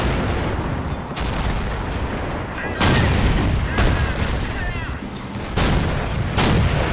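Anti-tank gun firing in Men of War: Assault Squad, a battlefield of loud booming reports, with several sharp heavy shots at irregular intervals over dense rumbling combat noise and faint talk.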